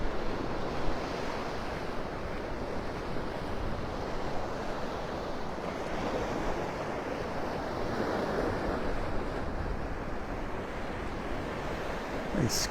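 Surf and a cool north wind roll across the beach at Pelican Bay in North Naples, Florida, forming a continuous, even roar of breaking waves and wind noise with no voices.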